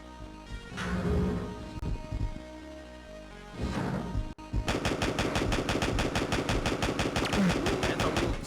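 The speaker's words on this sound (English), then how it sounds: "I got a chain gun." A chain gun in a GBA video game fires in rapid, continuous bursts of harsh electronic rattling, loud and close, with a brief pause before a sustained stream of shots.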